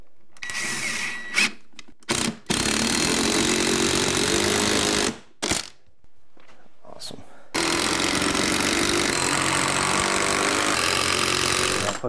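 Power drill driving 3-inch screws through a wooden sill plate into a joist during rotted wall and subfloor repair, loud whirring bursts of varied length with short pauses between, close by.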